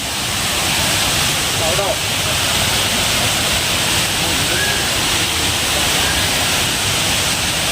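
Savdav waterfall near Kankavli sends water cascading down in a loud, steady, broadband roar that fills the whole scene without letup, with a voice faintly present beneath it.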